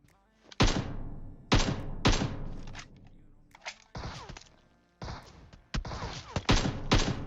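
Gunfire in the PUBG Mobile video game comes as sharp, loud shots, some single and some in quick bursts, separated by short quiet gaps with faint thuds between them.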